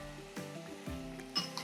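Onion paste sautéing in a pan for sardine chicken curry, with a soft sizzle and a few stirring scrapes, close and fairly quiet, with no voices.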